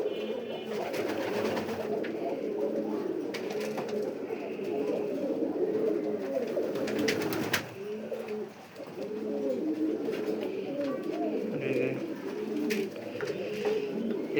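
Pigeons at a pigeon farm cooing continuously in overlapping soft rolling calls, fairly quiet and close, with faint handling noises mixed in.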